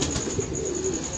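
A pigeon cooing nearby, a soft low throaty coo drawn out over about a second against quiet background noise.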